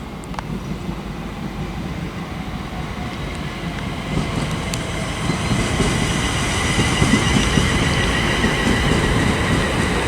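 British Rail Class 350 electric train at Birmingham International station, a steady rumbling rush of wheels and motors that swells louder over several seconds, with faint rail squeals and clicks, no voices.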